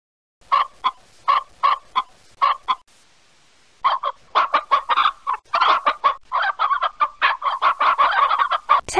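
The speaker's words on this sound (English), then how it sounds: "Ten hens in a secret den." Hens cluck in the 1998 PC game 123-CD, a loud close run of rhythmic clucks, a brief pause, then a denser, faster burst of overlapping clucking.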